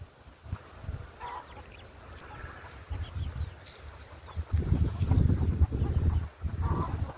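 Roosters cluck and grunt nearby in a yard, short irregular calls that grow louder and denser toward the end, with no talking.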